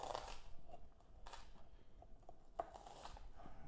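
Knife chopping a quarter of an onion for a turkey sausage breakfast bowl, heard as a few scattered soft cuts and taps against a board at a quiet, close level with no talking.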